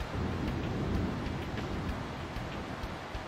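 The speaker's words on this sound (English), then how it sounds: "No, really, where is all this rain coming from?" Rain and thunder in the video game Pokemon Alpha Sapphire, with a dense, continuous downpour and a low rumbling underneath, alone and fairly loud for the entire stretch.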